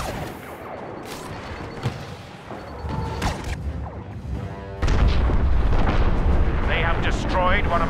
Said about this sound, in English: The ship is going to blow.